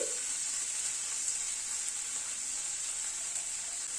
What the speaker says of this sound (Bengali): আদা বাটাটা দিয়ে আবার একটুখানি নাড়াচাড়া করে নিচ্ছি।